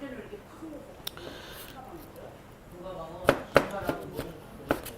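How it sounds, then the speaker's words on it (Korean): A knife cuts chili peppers into long strips on a board, several sharp close chops near the end following a stretch of talk, with a person speaking over the start. "네, 이렇게 길게 고추를 썰어 주시고 조금만 더 썰게요"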